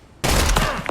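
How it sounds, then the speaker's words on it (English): Enemy gunfire in the video game Project Silverfish breaks out abruptly as a loud, close, dense volley of rapid shots that continues without pause. "Are they gonna start firing at me?"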